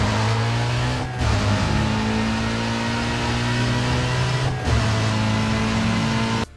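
Race-spec BMW E46 M3 GTR from Need for Speed Most Wanted, with its V8 engine and straight-cut gearbox, holding a steady loud drone with a gear-whine tone, briefly dipping at two shifts.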